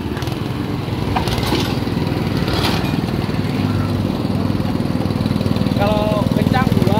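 A Honda-engined mini tractor runs steadily in second gear with a close, continuous chugging drone, and a voice is briefly heard toward the end.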